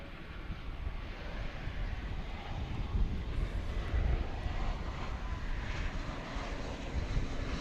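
A Volaris Airbus A320 airliner at DFW Airport at night, a steady broad engine roar that swells gently as the jet passes, heard outdoors with some wind noise.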